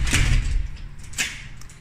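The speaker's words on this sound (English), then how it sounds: "just want to close the door." A house door is pushed shut indoors, giving a low thud at the start followed by a quieter knock or latch click about a second later, both close and brief.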